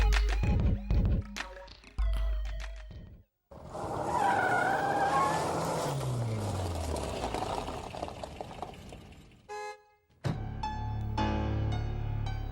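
A car pulls up and its engine rumbles and whines steadily for several seconds, close by, with brief sharp everyday noises before and after.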